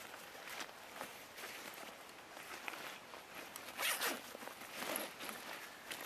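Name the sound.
backpack zipper being opened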